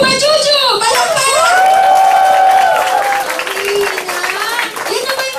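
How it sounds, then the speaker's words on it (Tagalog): Loud crowd applause and cheering for a presenter at a business presentation event, with a prominent amplified voice ringing out over the clapping and whoops throughout. "Palakpak!"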